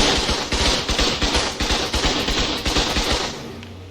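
Automated turrets firing advanced rifle bullets in a base-building video game, a loud rapid rattle of repeated shots in a steady rhythm that runs throughout and fades near the end.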